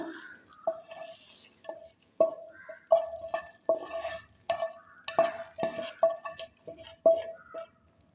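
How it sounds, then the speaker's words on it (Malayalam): A metal ladle or spoon clinks repeatedly against a pot as hot tempering is poured into mango pulissery curry, with a faint sizzle. The sharp, ringing taps come in an irregular rhythm, close by, with no talk. "നമുക്ക് താളിച്ചത് ഇതിലേക്ക് ഒഴിച്ചു കൊടുക്കാം"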